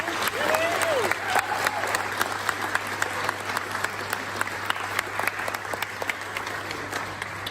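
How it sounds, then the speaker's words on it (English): A small audience applauds steadily for a woman being honoured at a community event, a dense wash of clapping with a low steady hum underneath and a brief voice near the start. "So give a little round of applause to this lady."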